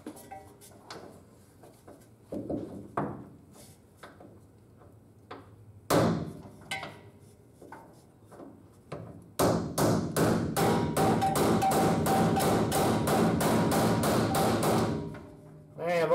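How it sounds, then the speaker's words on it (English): Metal hammer blows drive a pin out of a leaf spring shackle on a 1951 Ford F-1 truck, starting as scattered knocks and thuds, then becoming a fast, steady run of loud ringing strikes close by. "I got to drive that pin out first to get the pin out that holds the leaf spring in place and the shackle part"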